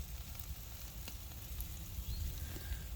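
Marinated meat sizzles steadily on a grill with hickory smoking in a pan nearby, a constant close crackling hiss with a low outdoor rumble underneath.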